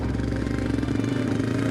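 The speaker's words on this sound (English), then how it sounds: "A motorcycle pulled up" A motorcycle pulls up outside a butcher shop in Medellín, its engine giving a close, throbbing low rumble that holds steady throughout the brief moment, with no voices.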